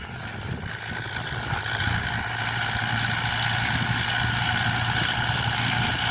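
A large farm tractor ploughing dry, hard rice-paddy soil drones steadily and continuously with a low engine hum, a constant moderately loud rumble with no talk over it.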